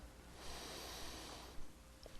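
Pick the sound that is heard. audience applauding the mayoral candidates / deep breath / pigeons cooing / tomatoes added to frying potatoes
deep breath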